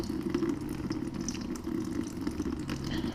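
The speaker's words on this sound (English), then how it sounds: "I'm just draining out the coolant." Coolant drains in a steady trickling stream from a 2011 KTM 350 SX-F motorcycle after the drain bolt is removed, a continuous close pour with no talk.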